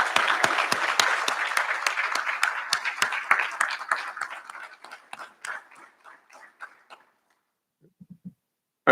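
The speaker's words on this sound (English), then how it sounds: "give yourselves a well-earned round of applause" Graduates and their audience applaud at a college recognition ceremony, a dense burst of clapping that thins out into scattered claps and dies away, with a few last claps at the end.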